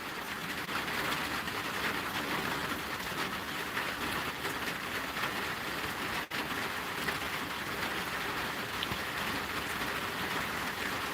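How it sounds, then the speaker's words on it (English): Heavy rain falls steadily and densely for the whole stretch, a continuous broad hiss with one brief dropout near the middle and no voices. "It is still raining, and it's raining pretty heavy right now."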